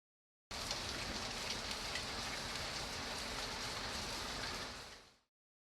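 Steady, dense rain falls continuously for about five seconds with a broad, hissing wash of drops, then fades out quickly at the end; no voices are present.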